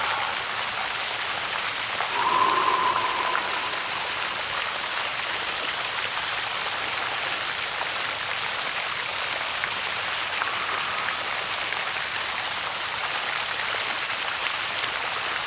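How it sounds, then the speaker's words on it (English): Water from a fountain splashes and patters in a continuous, even hiss that runs unbroken throughout, with a faint brief tone rising briefly early on. "Just bring your attention back to the sounds of the fountain."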